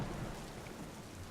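Rain Dance ability in the Smite video game, a steady hiss of rainfall with a low thunder rumble beneath, continuous and moderately loud, with no talk.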